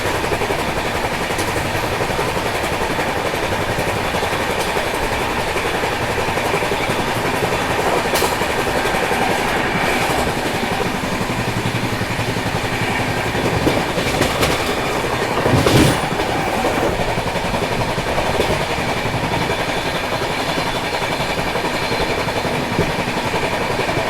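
Rajdhani Express in a 2AC coach on a flat nonstop run, its steady rolling rumble and rhythmic clickety-clack of wheels filling the cabin continuously, with a brief louder swell of rushing noise midway.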